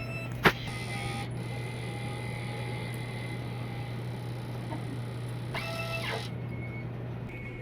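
A DTF printer runs a head clean cycle with a steady low motorized hum, broken by a sharp click near the start and brief whirring mechanism movements later on.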